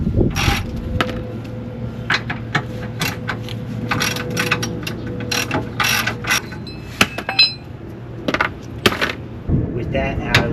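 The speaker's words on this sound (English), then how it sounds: "We'll start by undoing these bolts on both sides, holding the sway bar in place." Ratchet wrench clicking in repeated rapid bursts as it undoes the two 12mm bolts holding the sway bar on a Subaru during a suspension upgrade, close and fairly loud over a steady low hum in a garage.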